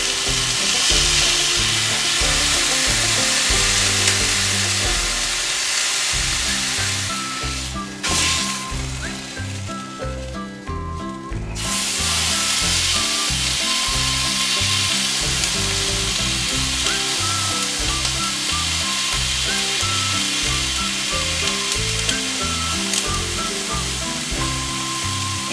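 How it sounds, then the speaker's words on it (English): Pot roast meat sears in a hot pan with a loud, continuous sizzle and crackle, briefly dipping while the meat is turned, then settling back into a steady fry. "As you can hear, the sizzle is much less now."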